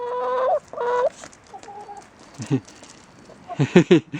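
Chickens cluck and squawk nearby while being fed a banana, with several close, short, rhythmic bursts spread across the clip and fainter clucks in between.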